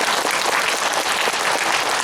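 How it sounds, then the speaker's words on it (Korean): An audience applauds after a lecture, with dense, steady clapping that is loud and close and lasts throughout with no voices over it. "여러분 다시 한번 뜨거운 박수 부탁드리겠습니다"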